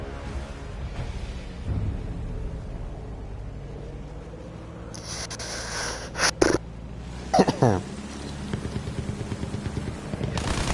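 Machine gun bursts aimed at a German plane during a Battlefield 1 air battle over Europe, a few short sharp volleys of rapid fire standing out over a constant engine drone, with someone speaking in between.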